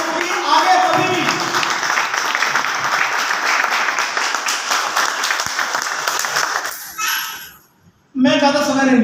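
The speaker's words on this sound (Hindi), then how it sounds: "आप लोगों की तरफ से जोरदार तालियां देना चाहता हूं" Loud, dense applause from a large audience at a motivational business meeting fills most of the stretch, fading out briefly near the end before a voice speaks again.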